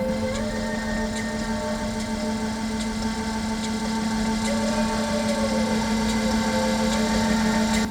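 A steady, grinding mechanical drone like a distorted engine hum, continuous and loud with faint rhythmic ticks above, no voices.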